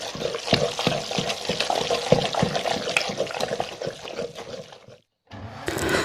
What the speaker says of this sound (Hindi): घोट लेंगे ताकि इसकी खिल्टियाँ नहीं बन जाए।